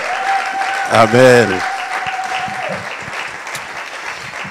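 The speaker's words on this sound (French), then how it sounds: "Acclame bien, c'est ton papa, acclame bien." Church congregation applauding during a conference service, a steady wash of clapping under a sustained tone, with a sung or called voice rising briefly in the middle.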